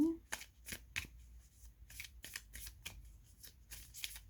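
Tarot cards shuffled and drawn, a quick run of crisp riffling flicks and soft slaps, close and fairly faint, and a voice briefly speaks at the start.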